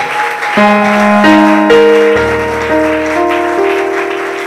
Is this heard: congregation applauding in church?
yes